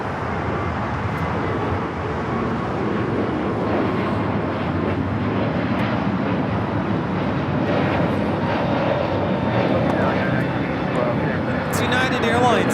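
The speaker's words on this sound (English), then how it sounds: "It's United Airlines 1912 taking off to Denver on the A321neo." United Airlines Airbus A321neo taking off from LAX, a distant broad jet roar holding steady under faint background talk and traffic, with a brief sharper burst near the end.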